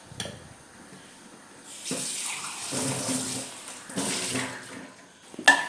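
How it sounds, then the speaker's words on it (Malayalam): Water is poured from a rinsed grinder jar into a fish curry pot in a few short splashing bursts, moderately quiet, ending with a light clink. "ഈ അരച്ച് വെച്ചിരിക്കുന്ന ജാറും ഒന്ന് കഴുകി അതിനകത്തിലേക്ക് ഒഴിച്ചു കൊടുക്കാം."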